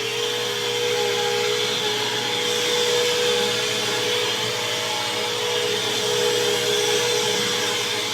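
Bissell Cleanview upright vacuum cleaner running steadily nearby, a constant motor whine with a tonal hum and airy rush, unbroken and without speech.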